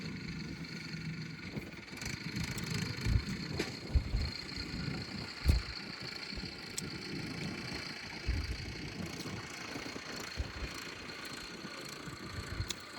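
A tractor levels a field, its engine droning steadily at a distance with a few louder knocks and bumps along the way; no voices.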